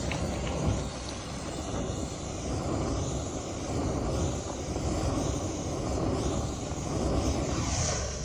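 A gas torch roars steadily as its flame is played over packed snow to melt it, a loud continuous rushing hiss that holds for the whole stretch without talk.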